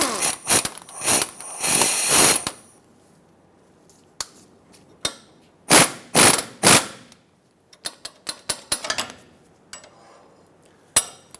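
A ratchet loosens the clamp bolts on a drag link adjustment sleeve of a 2003-2009 Dodge Ram 2500, with bursts of rapid, close metallic clicking separated by pauses and isolated clanks.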